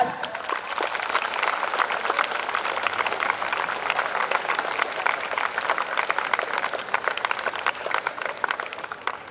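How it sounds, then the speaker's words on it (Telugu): A school audience at a Telangana Formation Day celebration breaks into sustained applause, a dense and even wash of clapping that runs at a steady level throughout with no speech over it. "let's start this beautiful journey with a huge round of applause"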